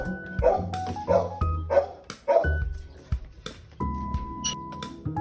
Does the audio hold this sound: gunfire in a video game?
no